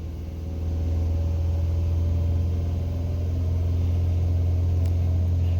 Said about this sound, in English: Can barely see the army truck tire climbing up out of that hole as I'm pulling.